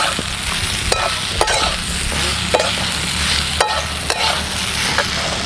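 Diced potato stirred into roasted peanuts in a hot pan, a utensil scraping and knocking in repeated strokes over a steady close sizzle, no voices.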